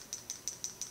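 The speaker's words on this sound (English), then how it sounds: "that is the sound of the firing pin rattling back and forth" Loose firing pin in a removed M1 Garand rifle bolt rattling back and forth, five light metallic clicks at a steady, even rhythm, faint and close with no voices.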